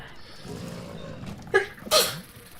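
A single sharp sneeze up close, a short intake followed by a burst of breathy noise, against a quiet background.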